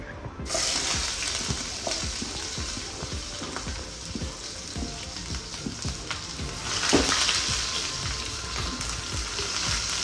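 Cloves, cardamom, mace and bay leaves sizzle in hot oil for a chicken lal bhuna, a close, continuous crackle with stirring taps and a louder hiss surging midway.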